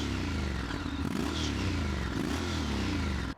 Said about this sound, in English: Let's have a listen at the tailpipe.